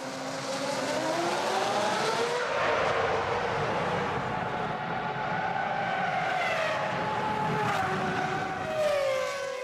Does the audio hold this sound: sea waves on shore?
no